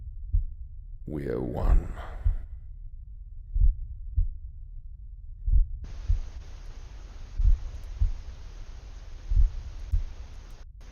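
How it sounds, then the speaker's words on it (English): A heartbeat sound effect thuds in slow, regular pairs of low beats throughout. A voice speaks briefly near the start, and a steady hiss of wind or rain rises partway through beneath the pulses. "as the heartbeat fades"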